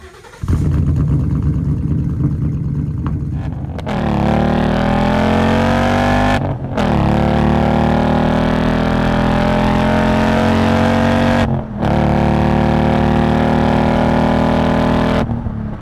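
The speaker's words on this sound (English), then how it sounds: "And just like that, we've got the Mustang on the road." A Temu Shelby Mustang, recently fixed after misfire problems, drives on the road, its engine revving loudly and climbing through gears in repeated pulls with short breaks between shifts, heard up close without talk.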